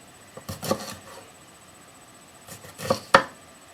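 Peppers being chopped on a board with a Japanese santoku knife: a few sparse, quiet knife strikes in two small clusters, separated by a stretch of near silence, close up with no talking.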